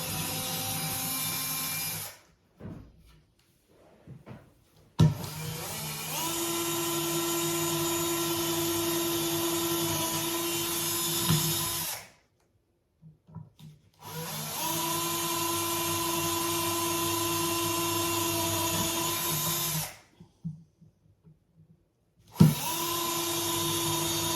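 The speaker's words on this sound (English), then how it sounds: "he's going to drill 4 holes for me" A power drill whirs loudly in three long bursts, starting and stopping with short quiet gaps between them as it bores four holes through a wooden sign.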